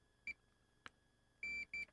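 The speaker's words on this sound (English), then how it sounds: "Beep, beep, and no beep, beep, no beep." Continuity tester probing a circuit on an Apple III computer gives short, faint electronic beeps: one brief tone, a click, then two longer beeps close together, with quiet gaps between.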